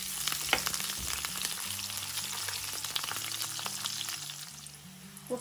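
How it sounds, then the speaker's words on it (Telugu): Bitter gourds frying in a pan for Andhra-style fry while being stirred, giving a steady close sizzle with scraping and stirring noises throughout. "ఇలా తిప్పుకుంటూ వేయించుకుంటే అన్ని వైపులా కూడా మనకు వేగిపోతాయి."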